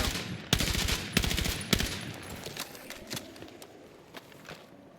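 Magnum pistol shots ring out in a video game shootout: sharp, loud rapid bursts early on, then sparser single cracks trailing off into quieter distant fire.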